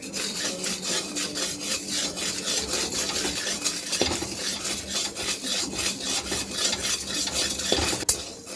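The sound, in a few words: salt being dry-roasted and stirred in a pan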